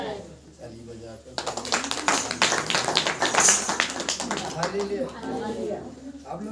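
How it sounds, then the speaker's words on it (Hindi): A church congregation at a Saturday prayer meeting claps hands together in a steady, rapid rhythm for several seconds, loud and close, with voices singing and talking around it. "ताली बजाकर"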